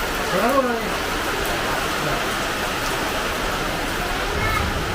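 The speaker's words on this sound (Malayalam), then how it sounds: "അത്യാവശ്യം നല്ലൊരു മഴയായിരുന്നു പക്ഷെ വലിയ ശക്തിയില്ലായിരുന്നു" A moderate, steady rain falls as a loud, constant hiss without let-up, and a brief voice sounds over it near the start.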